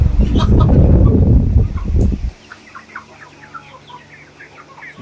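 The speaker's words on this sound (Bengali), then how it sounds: "এটা হচ্ছে এক পাশে মুরগি" Tiger chickens kept in a converted cattle shed cluck loudly and densely for about two seconds, then scattered softer clucks and chirps continue at a lower level.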